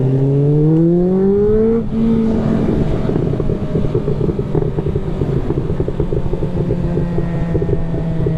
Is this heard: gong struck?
no